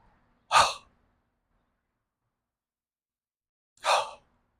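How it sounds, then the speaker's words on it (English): Two quick forceful exhales with a breathy ha sound during qigong breathing practice, spaced about three seconds apart, close and clear with silence between. "The exhale's quick. In fact, make a ha sound."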